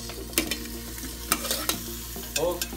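Potatoes tipped into a hot cooking pot with oil and tomato paste, sizzling steadily while a spoon scrapes and stirs in several distinct clanks and pushes, close and fairly quiet.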